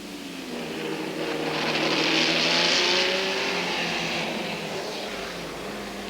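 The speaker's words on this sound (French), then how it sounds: "Ferrari numéro 3, qui pilote cette superbe 330P, un V12 de 4 litres" A 4-litre V12 Ferrari 330P race car, the 1964 Le Mans winner, passes on a circuit at a historic race, its engine roar swelling to a peak mid-pass and then fading with a falling pitch.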